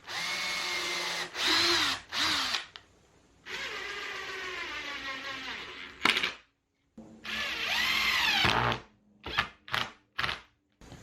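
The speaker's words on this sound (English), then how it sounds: "I had better pre-drill, or this might break through here." A power drill whirs in several bursts of varying length while pre-drilling pilot holes for screws in a woodworking workshop, revving up and down, with short pauses and quieter gaps between runs; no talking.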